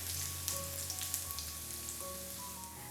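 Ginger, garlic and okra sautéing in a pan for a Kerala-style dish, a soft, steady sizzle and crackle with faint hum underneath, quiet and close, no voices.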